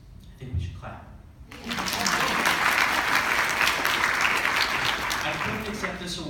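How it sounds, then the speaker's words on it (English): Sustained audience applause fills the room after a short spoken lead-in, loud and steady through to the end, following an award speech at the 2016 School Library Journal Summit. "I think we should clap."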